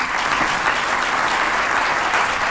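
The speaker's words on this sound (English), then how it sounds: "How about a round of applause for the panel?" An audience at a sustainability conference plenary session applauds the panel, a dense, even wall of clapping sustained throughout.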